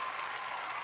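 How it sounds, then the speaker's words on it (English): Studio audience applause, a dense, steady burst of clapping from a crowd, fairly close and sustained for the whole brief moment without voices over it. "how about a studio audience round of applause again for Brandon Palaniuk?"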